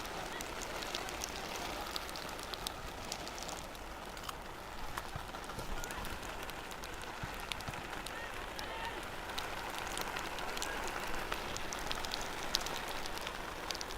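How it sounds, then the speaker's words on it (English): Heavy rain pouring down on an outdoor turf field during a women's soccer match, a steady dense hiss of drops with faint scattered taps and distant crowd or voices underneath. "Rain's really coming down now."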